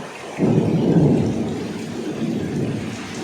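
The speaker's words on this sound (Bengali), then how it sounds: "দমকা হাওয়ার পাশাপাশি বৃষ্টির শব্দে আপনারাও তা শুনতে পাচ্ছেন।" A thunderstorm with heavy rain and gusty wind, a deep rumble of thunder swelling in after a moment and rolling on under a steady roar of rain, loud and close.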